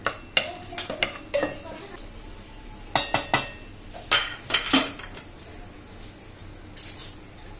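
Whole spices (cinnamon, cloves, peppercorns, star anise) are roasted and stirred in a metal pressure cooker, with bursts of sharp metallic clinks and scrapes in uneven clusters over quiet background sizzle.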